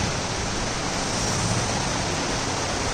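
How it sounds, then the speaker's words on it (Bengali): Heavy rain comes down in a dense, unbroken hiss that stays constant and fairly loud, with no voices over it. "ভালো বৃষ্টি নেমেছে"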